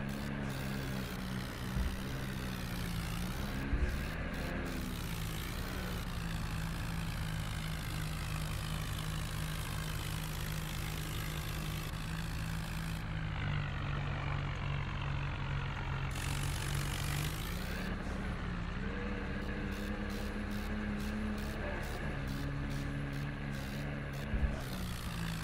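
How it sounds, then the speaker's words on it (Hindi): A tractor in an Indian vehicle simulator video game slowly pulls a heavy bus on a trolley, with its engine droning low and steady the whole time and shifting pitch now and then. "काफ़ी धीरे हमारा जो इंडिया ट्रैक्टर चल पा रहा है क्योंकि बस काफ़ी भारी होने के कारण हमारा ट्रैक्टर खींच नहीं पा रहा है"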